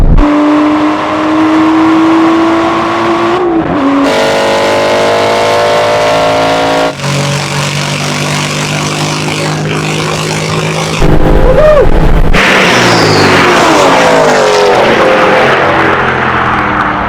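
Aston Martin racing cars accelerate hard in a drag race, with loud engine revs climbing through the gears, each shift marked by a drop in pitch, then a turbocharged whine and roar near the end.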